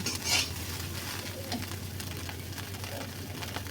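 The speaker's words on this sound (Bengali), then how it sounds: "এবার এখানে পানি অ্যাড করে দেবো ভালোভাবে এটাকে রান্নার জন্য।" Water goes into a pan of sizzling fried broken rice with cauliflower greens, giving a brief burst of hissing that settles into a steady bubbling sizzle with light stirring scrapes, close and moderately loud.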